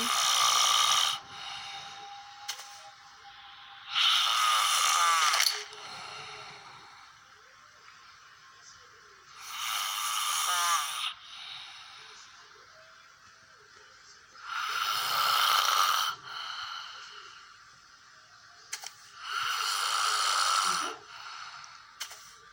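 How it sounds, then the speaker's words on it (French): A man snores loudly, with harsh rasping snores repeating about every five seconds and quiet breathing gaps between them. "c'est affreux comme il ronfle ce mec"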